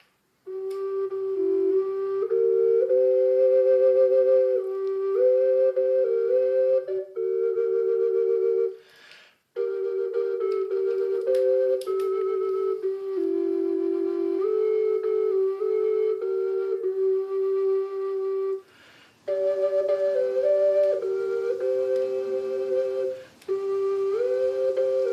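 A horn made from a Heidschnucke sheep's horn plays a slow, sustained melody of held notes, with a few short pauses between phrases, resonant and alone.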